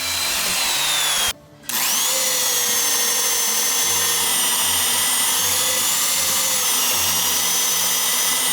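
A power drill bores holes through wooden house sills, whining loudly and steadily with a grinding rasp, breaking off for a brief pause before spinning up again and running continuously.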